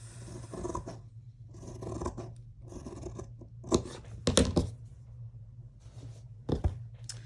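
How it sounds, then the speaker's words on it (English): Scissors cut through a paper cover up close, with several separate crisp snipping and rustling strokes and a few louder snaps near the end; no one talks. "And we'll cut that off."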